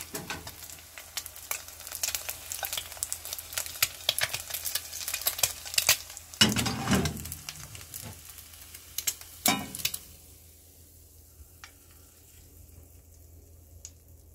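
An egg fries in a stainless steel frying pan, a steady close sizzle with stirring and scraping clatter, several sharp utensil knocks, then the sizzle fades to a quiet hiss for the last few seconds.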